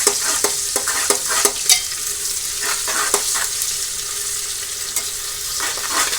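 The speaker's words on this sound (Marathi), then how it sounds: "अशा पद्धतीने परतून घ्यायचं सगळं" Onions sauté with salt in a pan for veg biryani, making a loud, close sizzle broken by repeated sharp spatula scrapes and stirs, with no talking.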